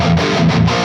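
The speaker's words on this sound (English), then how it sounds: "Flip that switch to the bridge pickup." Stratocaster electric guitar switched to the bridge pickup, a brighter, more cutting distorted chord sustained loudly and evenly through a short burst, no talking over it.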